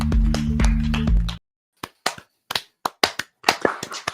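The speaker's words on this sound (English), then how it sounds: "He's clapping." Hands clap on a podcast set, first dense and loud over a low hum, then after a short silence a series of separate, sharp single claps at an uneven pace.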